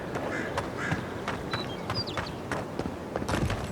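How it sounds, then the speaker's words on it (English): Chickens in the fantasy game Avowed squawk and cluck in short, irregular bursts over a busy ambient background, with several sharp calls close by and no speech. "And chickens. Every fantasy world has chickens."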